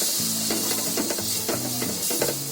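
Flour stirred into melted butter in a pan for white sauce sizzles steadily, with soft scraping strokes of a spoon repeating over the hiss, fairly close and moderately loud.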